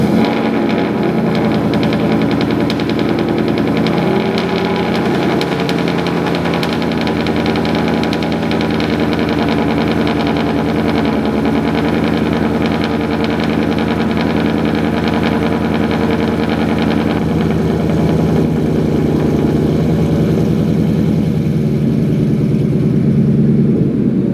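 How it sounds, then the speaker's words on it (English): Ford F-150 single cab with a Whipple supercharger and AWE exhaust fires up from cold, a loud, steady, rumbling engine roar with a raspy exhaust drone held close throughout. "As you guys can hear, the cold start sounds really loud, but like amazing."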